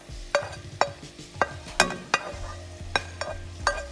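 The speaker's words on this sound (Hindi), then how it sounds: "बस ऑयल में आपने इसको अच्छी तरह फ्राई कर लेना" Chicken for chow mein fries in oil in a pan, with soft sizzling under a string of sharp metallic clinks and scrapes from stirring, close up and without talk.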